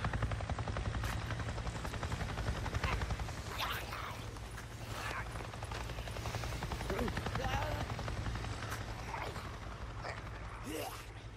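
Helicopter flying overhead in the post-apocalyptic game Days Gone, a steady droning rotor hum that runs the full length with faint game ambience and scattered clicks over it.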